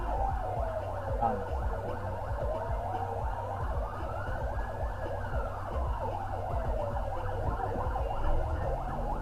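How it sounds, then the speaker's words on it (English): An ambulance siren wails continuously, its pitch slowly rising and falling over steady traffic rumble, moderately distant and without talk. "Where's the ambulance?"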